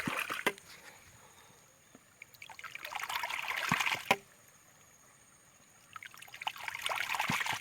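Water trickles and splashes from a hydraulic ram pump set in a rice field ditch, a soft continuous flow that swells in two bursts with sharp clicks between, fairly faint and with no talking.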